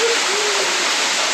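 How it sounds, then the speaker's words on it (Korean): A waterfall in a remote valley of Naebyeonsan pours down onto a person standing beneath it, making a loud, steady, close roar of crashing water that continues without a break. "폭포를 한번 맞아보겠습니다."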